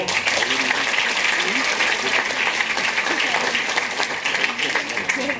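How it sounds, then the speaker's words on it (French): Steady, dense applause from a large audience at a film festival closing ceremony honouring the city of Strasbourg, continuous and even throughout with no break. "On peut applaudir la ville de Strasbourg."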